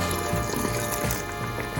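Water pours steadily into a pot of Jamaican-style cow foot and bean stew, a continuous close splashing and trickling wash with no talk over it.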